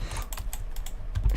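Keys pressed on a computer keyboard while configuring Blender 2.79b shortcuts, a quick run of soft clicks close to the microphone with no voices.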